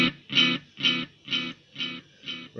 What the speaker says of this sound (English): those repeats go on, they don't degrade anywhere near as quickly as they would with an analog or a tape style